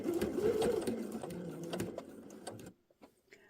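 A sewing machine stitches along the border of a quilt block pillow, a close rapid mechanical chatter of needle strokes for under three seconds that stops abruptly, followed by a few faint clicks.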